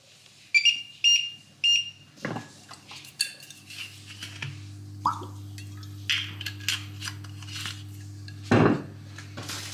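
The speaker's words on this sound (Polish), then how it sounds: "zaraz sobie go odgrzewam na patelni i będę jadła na ciepło" A wrap reheated in a frying pan in a home kitchen: sharp metallic clinks and scrapes of pan and utensils come in bursts, some loud and close, over a steady low hum, with no talking.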